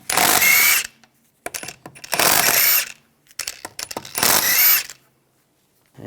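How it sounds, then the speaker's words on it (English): Ratchet with a 17mm socket taking the lug bolts off the rear wheel of a 2001-2006 BMW 325Xi, heard as three loud, close bursts of rapid clicking, each about a second long, separated by short pauses and small metallic taps. "Remove the wheel, use a 17mm socket. Take the lug bolts out."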